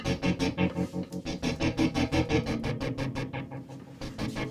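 Synth bass riff fed through a Hughes & Kettner TubeMeister Deluxe 20 tube amp with added distortion and analog delay, pulsing in a fast, steady rhythm with gritty, smeared echoing tails, loud and close.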